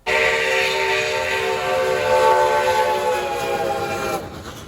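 A loud, sustained steam whistle from Reading 2102 steam locomotive blows close by for about four seconds, a rich multi-toned blast that cuts off abruptly.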